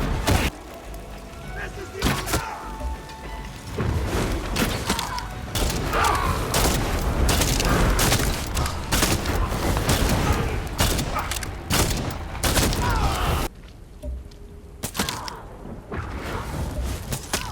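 Gunfire from the Far Cry 5 Joseph: Collapse DLC, with booming shots and bursts scattered through dense game action, heard under continuous narration.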